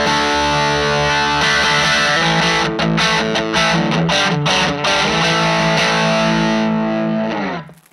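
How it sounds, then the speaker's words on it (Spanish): Electric guitar with single-coil pickups played through an H&K Tubemeister Deluxe 20 tube amp with boosted distortion: loud sustained saturated chords with a few choppy restrikes, ringing out and cutting off at the end. "Vemos que incluso con una guitarra, con single, con pastillas single, puede conseguir muchísima distorsión."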